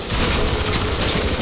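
Loud, close gunfire in the shooter Crysis 3, a dense burst of rapid overlapping shots and booming impacts filling the short moment without a break.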